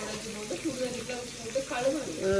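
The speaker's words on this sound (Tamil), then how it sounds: "இப்போ கருவாட்டை பொறிக்க போகிறோம்" Oil sizzles and crackles as dried fish fries, with a person talking over the cooking sounds.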